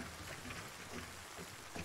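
Steady rain falls at night in a video game, a dense, even hiss of drops that holds at a constant level throughout, with no voices over it.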